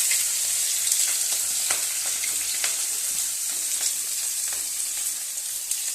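Chopped onion, garlic, ginger and green chilli fry in oil, a steady close hiss with occasional soft pops and stir clicks, no talking over it.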